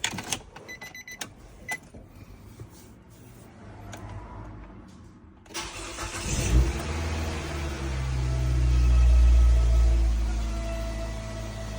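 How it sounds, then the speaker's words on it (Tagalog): Car engine after a DIY oil change, quiet clicks and handling first, then a sharp crank and start that settles into a low, rising idle rumble close by. "the moment of truth. Start the engine."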